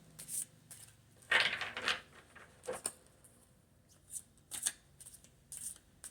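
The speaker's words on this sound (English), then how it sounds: "We'll shuffle these cards and get to the bottom line." Playing cards are riffled and shuffled in quick bursts, close and crisp, with short pauses between each shuffle.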